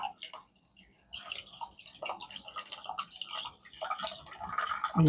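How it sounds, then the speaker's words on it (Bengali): Water splashes and drips irregularly onto an electronics module, a busy close patter of small wet impacts that continues steadily throughout. "ইলেকট্রনিক্স মডিউলের উপরে পানি পড়তেছে"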